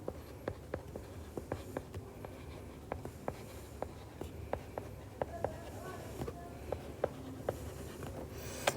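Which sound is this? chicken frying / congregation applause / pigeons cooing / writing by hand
writing by hand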